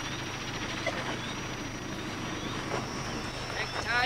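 A faint, steady drone of several helicopters with a thin whine hangs in the background in rural Thailand, while voices murmur softly over it.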